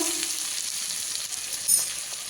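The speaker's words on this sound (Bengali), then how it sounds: "মশলাটাকে এবার ভালো করে কষিয়ে নেব।" A ground radhuni spice paste with salt and turmeric fries in a pan, giving a steady, close hiss and sizzle with a brief stirring scrape and no talking.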